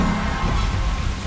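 Steady, dense rain falls close by with a low rumble underneath, set as thunderstorm ambience for a horror story; the wash of rain continues evenly without a break and no voices are heard.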